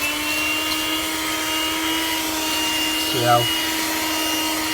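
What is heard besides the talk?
handheld car vacuum cleaner sucking up dirt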